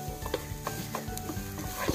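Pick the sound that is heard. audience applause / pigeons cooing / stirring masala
stirring masala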